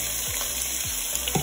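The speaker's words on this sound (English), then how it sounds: "In a small skillet, I'm going to add some olive oil. I'm going to saute my shrimp." Shrimp sautéing in olive oil in a small skillet gives a steady, close sizzle and fry with faint stirring scrapes, no voices.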